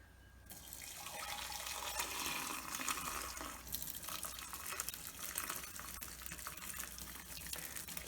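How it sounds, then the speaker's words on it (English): Red cabbage water poured over a sink through a strainer into a glass, a steady broadband splashing rush that runs continuously and fairly loud, no talking. "Just going to fill up that glass underneath."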